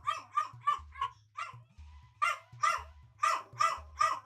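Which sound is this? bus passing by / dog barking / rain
dog barking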